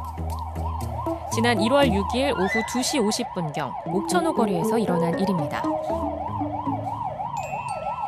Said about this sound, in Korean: 밖에서 앰뷸런스 소리가 한참 나길래